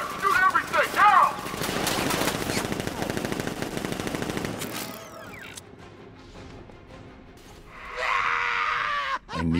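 Rapid automatic gunfire in Batman: Arkham Knight, a militia ambush opening up in dense bursts for several seconds alongside shouting, then a quieter gap before another loud burst of game noise.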